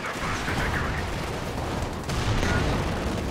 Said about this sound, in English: this Panzer IV is not bouncing any shots